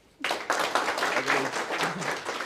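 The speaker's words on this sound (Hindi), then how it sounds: "जोरदार तालियां।" An audience at a comedy show starts clapping abruptly and keeps up lively, dense applause, with a voice briefly heard in the middle.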